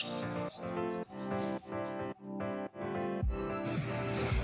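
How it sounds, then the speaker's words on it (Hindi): Small birds chirp in the morning in a series of bright, repeated tweets and trills, close and clear, one call after another with brief pauses and no talking. "यहाँ चिड़िया की आवाज़ इतनी थी ना, जो मैं उससे सोची कि चलो रिकॉर्ड करती हूँ"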